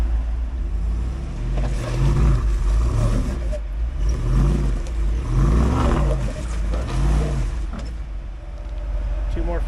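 A Toyota 4Runner crawling over rocks on a Moab off-road trail, its engine revving in repeated rising and falling surges over a constant low drone, loud and close.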